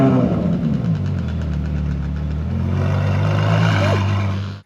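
Ferrari Pista V8 engine in a workshop fires up into a loud, steady, rumbling idle with a brief rising rev near the end, sustained close by for several seconds before cutting off.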